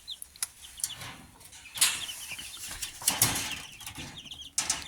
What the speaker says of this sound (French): il s'affole quand j'ouvre un peu la grille, que ça fait du bruit